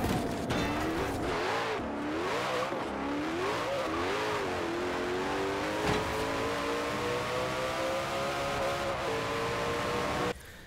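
A car in Forza Horizon 4 accelerates hard, its engine note climbing through several rising gear sweeps, loud and close, before cutting off abruptly at the end.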